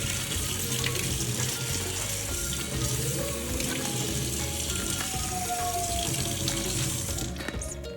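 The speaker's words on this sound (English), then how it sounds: "Let's start by washing the strawberries." Tap water runs steadily and continuously over strawberries being washed for a fruit salad, a close, even rush of flow with no pauses.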